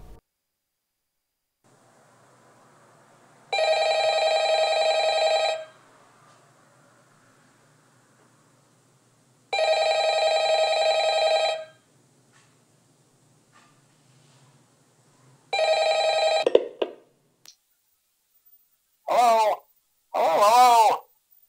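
An old-style telephone in the video game Five Nights at Freddy's rings in three long, evenly spaced electronic bursts, loud and close, with quiet gaps between them, followed by a brief voice at the end.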